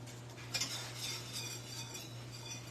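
A whisk clinks and scrapes against a fry pan as flour is worked into seafood chowder, a steady soft stirring with a faint low hum, no talking.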